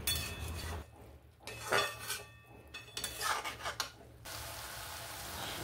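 A tomato, ginger and okra curry being stirred in a pan, with a utensil scraping and clinking against the metal in a few close bursts between quieter moments, over a steady background hiss, without any talking.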